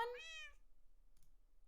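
A kitten gives one clear, short, rising-and-falling meow close by in a quiet room, followed by near silence and a faint soft click.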